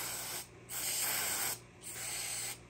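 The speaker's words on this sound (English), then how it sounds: "clean my hardware off with some carbon choke cleaner" Carb and choke cleaner is sprayed onto small engine hardware from a Kawasaki FR691V, in three close hissing bursts separated by short pauses, with no voices.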